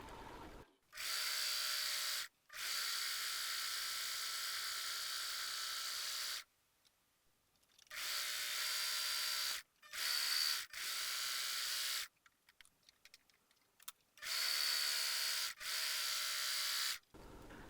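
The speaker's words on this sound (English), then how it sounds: "If you have a serger, serge the center front and center back edges of the right and left mantle, piece A." A serger overlocks the center front and back edges of a medieval monk costume's mantle pieces. Its buzzing motor whine comes in several runs of a few seconds each, separated by short silent pauses.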